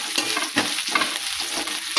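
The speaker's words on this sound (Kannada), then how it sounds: "ಮೊದಲಿಗೆ ನಾನು ಈರುಳ್ಳಿನ ಹಾಕೋತೀನಿ ನೋಡಿರಿ. ಈಗ ಇದನ್ನು ಸ್ವಲ್ಪ ಫ್ರೈ ಮಾಡ್ಕೊತಾರೆ." Onions fry in hot oil with a dense, continuous crackling sizzle, close and fairly loud, with soft stirring bursts through the short stretch and no voices.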